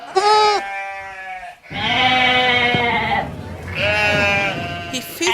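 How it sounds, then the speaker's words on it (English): Sheep bleat loudly and close by, with several long wavering calls separated by short pauses. "Can you hear the sound of the sheep?"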